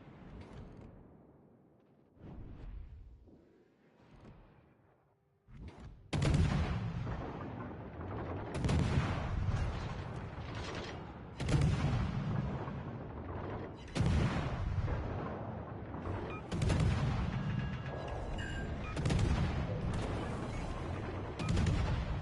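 Heavy naval gunfire booms repeatedly in the video game World of Warships Legends, starting with faint rumbles, then loud salvos arriving every few seconds with deep, rolling low-end impacts.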